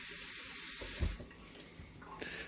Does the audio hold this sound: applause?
no